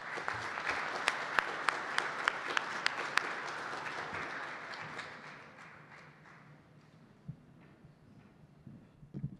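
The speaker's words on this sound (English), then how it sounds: "Let's give her a nice round of applause." An audience at the ACC Media Days event claps loudly and steadily for about five seconds. The applause then thins out into a few scattered claps against a quiet room.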